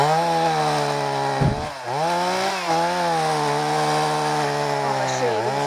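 Chainsaw cutting wood, its engine droning loud and close with pitch dips and recoveries as the chain bites into the log, running almost continuously.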